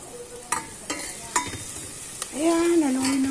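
Ginger and onion fry in a pan for a tahong with patola dish, a low steady sizzle broken by sharp clinks of a spoon against the pan, then a rising and falling whistle-like tone near the end.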